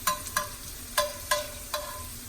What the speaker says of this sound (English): So we're going to fry these up until we get a nice flavor.